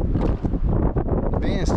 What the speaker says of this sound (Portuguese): Mas olha o vento que tá.